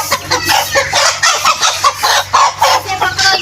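A large, frightened rooster clucks in a rapid, rhythmic series of loud, close calls, with short pauses between the bursts and no speech.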